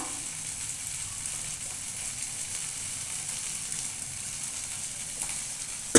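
Potato, pointed gourd and papaya sautéing in a little oil, a steady soft sizzle throughout with faint stirring scrapes and a small clack at the end.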